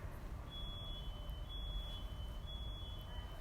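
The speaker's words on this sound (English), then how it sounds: "That's the weirdest opening fridge door sound I've ever heard. Sounds like a car alarm." Opening fridge door that gives an odd, car-alarm-like electronic beeping, three short high tone bursts at a steady pace over a low background rumble, with no talk.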